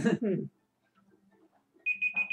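A Banjo-Kazooie video game timer sounds as a short run of high electronic alarm beeps after a brief burst of someone speaking.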